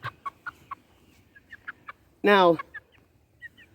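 A large young rooster with a big comb and wattles gives short clucks while being handled, a series of soft separate calls, then one loud drawn-out squawk in the middle, with someone speaking briefly.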